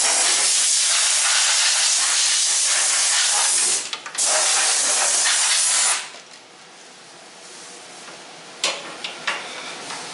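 Compressed air from a hose blasting out a body seam on a 1977 Toyota Celica GT before seam sealing, a loud, close, continuous hiss that cuts out briefly, then drops to a softer hiss with a few short sharp bursts.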